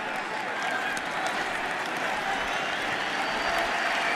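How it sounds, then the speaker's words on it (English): A stadium crowd at a 2007 Miami vs Oklahoma college football game applauds near halftime, a broad, even roar of distant clapping and crowd noise that carries on steadily. "here comes the applause"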